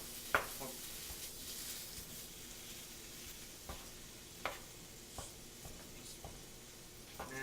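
Meat frying in a pan while being broken apart, with a faint continuous sizzle and scattered light knocks and scrapes of a utensil against the pan.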